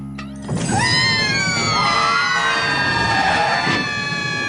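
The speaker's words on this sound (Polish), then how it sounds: "Słyszę syrenę, ale gdzie się pali?" A cartoon fire engine siren wails loud and close, rising and falling in a steady tone that holds for several seconds with no talk over it.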